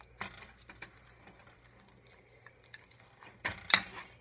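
Oatmeal cookie dough with chocolate covered raisins is stirred in a bowl, giving sparse scraping clinks and soft taps with a couple of sharper knocks near the end, close and fairly quiet.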